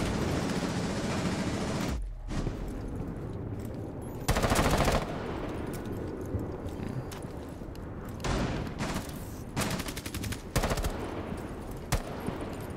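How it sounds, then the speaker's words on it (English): Rapid automatic gunfire in a ranked online shooter match, bursts of close, loud shots with the Fenrir weapon, repeated volleys and single cracks layered over continuous game ambience. "He did just shoot at the Fenrir"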